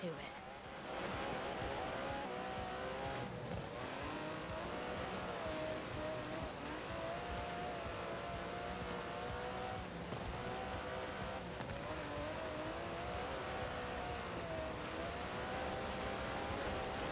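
An Aston Martin DB11's 5.2-litre twin-turbo V12 in Forza Horizon 4 drones and rises and falls in pitch as it revs through a drive, with a voice talking over it.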